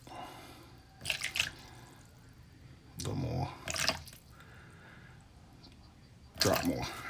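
Fragrance oil is splashed in drops into a mixing cup on a scale for a room and linen spray, three brief, faint liquid bursts spaced a couple of seconds apart against a quiet room.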